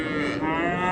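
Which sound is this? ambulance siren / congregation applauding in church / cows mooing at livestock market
cows mooing at livestock market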